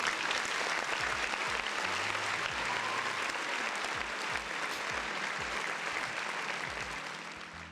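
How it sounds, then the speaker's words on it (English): Round of applause during a gaming livestream, a continuous crackling wash of clapping that holds steady and tapers slightly at the end, with a faint voice underneath. "round of applause for the folks in the chat"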